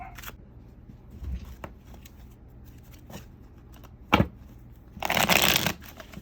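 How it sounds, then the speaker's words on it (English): Tarot cards being shuffled by hand, a few soft riffles and taps early on, then a louder, longer crisp riffle near the end, heard alone without talk. "Just want to shuffle these up really well."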